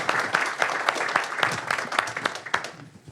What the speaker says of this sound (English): So quick round of applause for the library and the Mill Valley Historic Society.